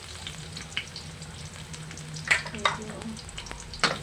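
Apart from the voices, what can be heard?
garlic frying in cooking oil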